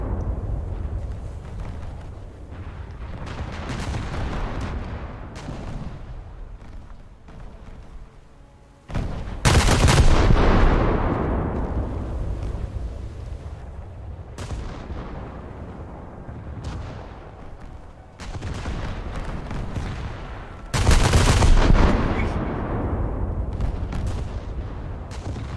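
Heavy 155 mm naval guns firing in a warship video game: a steady rumbling barrage with two especially loud, sharp blasts about twelve seconds apart, each followed by a booming decay.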